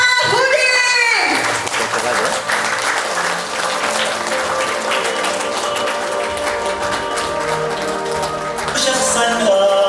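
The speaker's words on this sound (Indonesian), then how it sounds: "Mari kita sambut dengan memberikan aplaus yang sangat meriah kepada Bapak Ustaz" An audience gives loud, sustained applause for a preacher at a motivational training event, with dense clapping filling the whole stretch, and a voice carries over it near the start.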